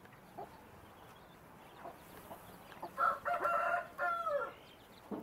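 An Asil rooster crows close by, a loud drawn-out call in the second half of the clip, with softer clucks from Asil hens scattered before it on a quiet farm.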